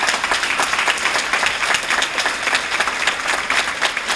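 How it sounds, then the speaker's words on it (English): Audience applause at a community school meeting: dense, loud clapping from a crowd that holds steady for about four seconds, close and full, with no voices on top. "A round of applause."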